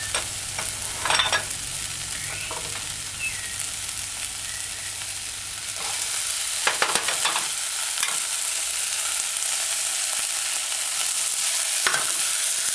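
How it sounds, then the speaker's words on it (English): Mushrooms and chickpeas being stirred into a simmering stew, a spoon scraping the pot in a few separate strokes over a steady low sizzle, close and moderately loud with no voices. "Stir it in a few times. Stir it in."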